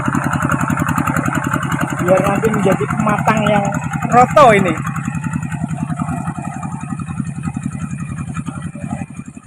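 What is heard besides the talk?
hand tractor engine plowing a rice paddy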